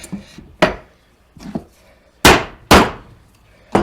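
A chisel breaking waste wood out of a half lap joint, several sharp knocks and cracks of splitting wood at uneven intervals. Some are loud and close, others softer, with no talking.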